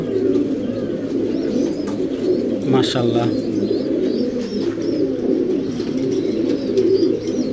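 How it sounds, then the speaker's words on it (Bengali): Racing pigeons, a male and a female, coo softly and steadily in the background while someone talks over them throughout. "তো চলুন ছেড়ে দেখে কবুতর দুইটা দেখেন।"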